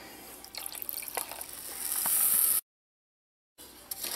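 Water splashes and trickles softly into a saucepan of sugar on medium heat, a faint pouring sound that stops abruptly, goes silent for a moment, then returns briefly.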